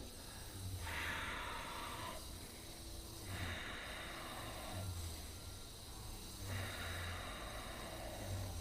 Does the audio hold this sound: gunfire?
no